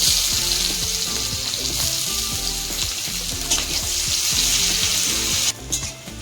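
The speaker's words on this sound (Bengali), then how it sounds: "পেঁয়াজটা আমার হালকা ভাজা হয়ে গেছে" Chopped onion frying in hot oil, a loud, steady close-up sizzle with regular spatula scrapes and taps against the pan, ending with a brief clatter, no voices.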